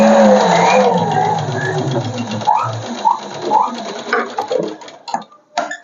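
A sewing machine runs in a fast, steady whir while stitching piping onto a blouse neckline, then slows and stops, leaving a few clicks and light handling noises.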